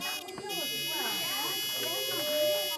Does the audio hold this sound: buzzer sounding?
yes